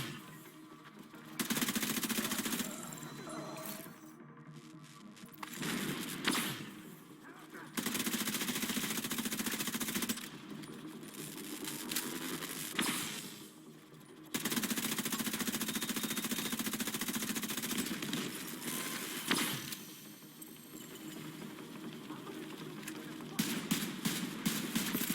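Sustained automatic gunfire in The Division 2 during a Jupiter manhunt mission, rattling in long loud bursts with brief pauses, with sharper crackling shots near the end.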